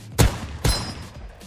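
Two loud, close shotgun blasts in the video game Krunker.io, about half a second apart, each with a sharp attack and short booming tail.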